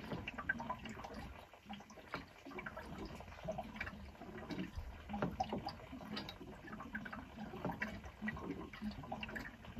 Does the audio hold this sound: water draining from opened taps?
yes